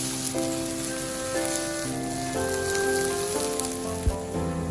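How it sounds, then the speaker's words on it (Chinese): Boiling water poured into a hot pan of stir-fried tomatoes that have released their juice makes a steady, hissing sizzle under sustained background music. "把番茄炒出汁水之后，再往里面倒入多一点的开水"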